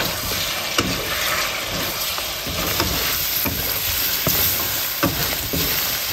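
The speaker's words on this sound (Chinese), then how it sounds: "炒出红油以后，把鸡爪鸡翅下进来" Chicken feet and wings stir-fry in chili bean paste oil in a wok, with steady loud sizzling and periodic scraping clacks of the spatula stirring the pan.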